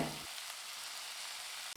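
A loud, steady sizzle of chopped yam frying in a hot pan, with a brief stirring scrape at the start and another near the end.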